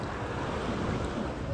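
Ocean waves washing onto the beach at Playa Mamitas in Playa del Carmen, a constant close surf wash with some wind noise and no pauses or talking.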